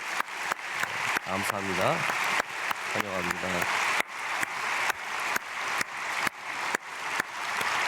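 A church congregation at an early-morning prayer service claps together in a steady rhythmic beat to welcome a visiting pastor, while someone speaks briefly over the clapping.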